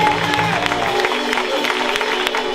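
A church congregation acclaims the Lord with brisk, continuous clapping and crowd voices, loud and close, layered over a sustained tonal sound from the room.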